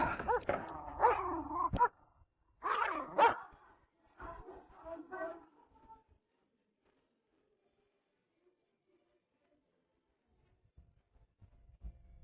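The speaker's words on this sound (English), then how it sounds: "Savage dogs, were they, my lord?" Savage dogs bark and snarl in loud, close, overlapping bursts for about six seconds, with several clustered volleys separated by short gaps, then fall away to near silence with faint low rumbling at the end.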